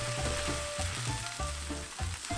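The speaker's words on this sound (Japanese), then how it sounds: "酸味が飛ぶようさっと炒めます。" Half a can of chopped tomatoes with cumin and oregano stir-fried briefly in a pan, a loud continuous sizzle broken by repeated scraping and stirring strokes.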